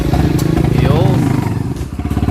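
A Barako motorcycle converted into a three-wheel tricycle idles loudly with a rapid, steady engine pulse while reversing, under nearby talk.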